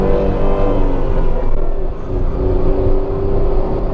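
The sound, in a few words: Tata Altroz 1.2L petrol car accelerating in eco mode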